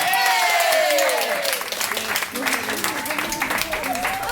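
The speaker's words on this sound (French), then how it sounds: "et Micheline, elle aura droit à son joli bouquet sur vos applaudissements" Applause from residents and guests at a Miss and Mister pageant held in a nursing home, clapping heard under and around a speaking voice that carries through much of the clip.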